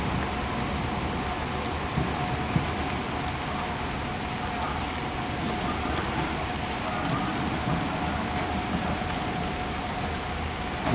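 Steady rain falling outdoors near the Phong Châu bridge site, a dense, even hiss of drops on surfaces lasting throughout, moderately loud with faint background activity.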